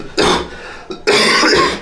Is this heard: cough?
yes